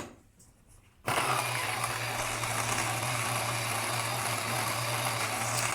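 Geimori T38 Plus single-dose coffee grinder starts abruptly after a quiet moment, then grinds beans with a steady, strained motor whine and gritty crunching that carries on to the end without talk.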